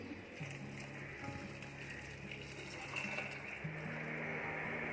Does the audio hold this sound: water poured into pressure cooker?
yes